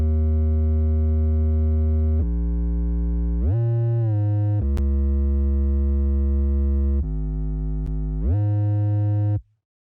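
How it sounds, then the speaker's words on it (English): A distorted, EQ'd sine-wave bass from the RealFX Nexus synth plays a slow, loud, sustained line of long notes with quick slides between pitches, rumbly and buzzy, then stops abruptly. "I used a basic sine wave from RealFX Nexus."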